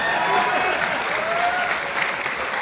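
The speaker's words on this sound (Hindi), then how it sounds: "ये ताली बजाने की जरूरत नहीं है जी" Audience applause during a Hindi motivational talk, a steady dense clatter of many hands clapping throughout, fairly loud and continuous, with faint voices mixed in beneath it.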